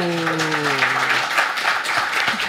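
A large audience claps in a steady, dense burst once a presentation screen comes back on. Loud and close, the applause continues with almost no talking, while a short fading tone plays at the start.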